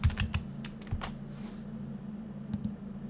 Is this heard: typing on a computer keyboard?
yes